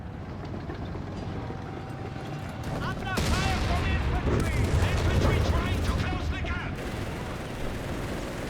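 Stummel gunfire amid a Company of Heroes 3 battle, layered bursts of shots and rumbling explosions over a constant battlefield din, peaking midway.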